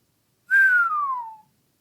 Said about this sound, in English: I do the high-pitched whistle.